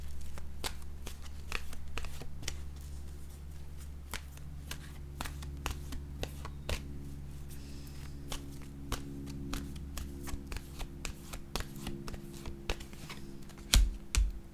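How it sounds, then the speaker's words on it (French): Oracle cards are shuffled and drawn by hand in a quiet room, giving a steady run of soft papery flicks and riffles with sharper taps and snaps near the end. "Je vais piger maintenant une carte de mon oracle de la main intuitive."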